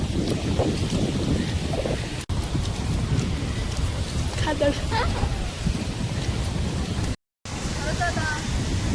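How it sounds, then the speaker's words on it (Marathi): Steady rain and gusting wind roar across the whole stretch at a beach, loud and close, with a brief dropout near the end and a few faint chirpy sounds mid-way. "पाऊस आला."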